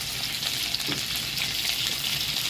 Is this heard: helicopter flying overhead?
no